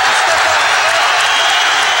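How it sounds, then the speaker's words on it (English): Boxing arena crowd at a Larry Holmes versus Ray Mercer heavyweight fight applauding loudly, a dense continuous roar of clapping and cheering with no break. "The crowd on its feet."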